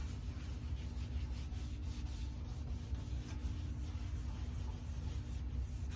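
A cleaner-soaked rag rubs steadily over a grill hopper lid on a recteq Bullseye pellet grill to wipe off grease, giving a continuous soft scrubbing hiss close by with no talk.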